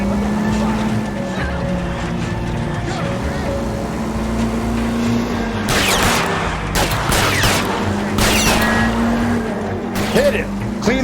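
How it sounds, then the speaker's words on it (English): Gunfire aimed at a car tire during a vehicle chase in the video game L.A. Noire, with several sharp bursts of shots cutting over a steady engine drone from about the middle to the end. "I'll try to shoot out his tire."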